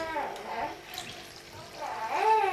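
Whey draining from cheesecloth-wrapped curds pressed in a form while making farmer's cheese, a soft pouring trickle of liquid that swells near the end, with a voice speaking over it.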